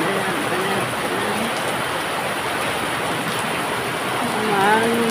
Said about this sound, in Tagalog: Lakas na ng ulan. Tapos mahangin pa mga kapards.